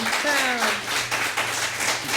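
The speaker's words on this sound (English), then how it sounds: "That is real applause, not fake hands." A small live audience at a music performance in the round claps, a scattered patter running steadily beneath a voice that speaks and cheers over the start.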